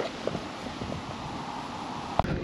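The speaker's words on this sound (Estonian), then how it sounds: "väljas on nii räme tuul. Ma ei tea, kas te kuulete" Strong outdoor wind buffets an unshielded microphone at an Estonian air show, a steady low rumbling roar with broadband noise, plus one brief sharp knock near the end.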